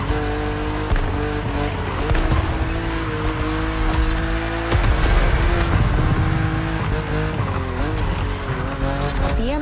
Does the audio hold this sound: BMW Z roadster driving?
yes